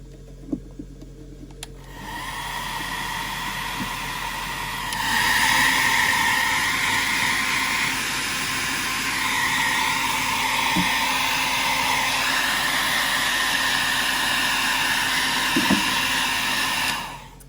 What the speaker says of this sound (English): Now I might give it a blast with the hairdryer.